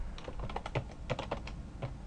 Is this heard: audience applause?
no